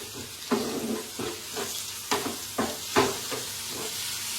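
Sandwich filling frying and sizzling in a pan, with a steady hiss broken by repeated stirring scrapes and bursts at an uneven rhythm, close and moderately loud, no talking.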